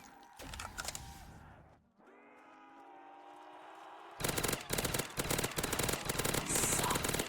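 Automatic weapon fire in a shooter game: a short opening burst, a lull with a rising mechanical hum, then long rapid loud volleys of gunfire close by.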